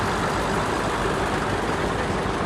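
A 1960 John Deere Model 60 tractor rolls by in a farm show parade pulling a two-bottom plow, its engine a steady, loud, continuous rumble with no voices over it.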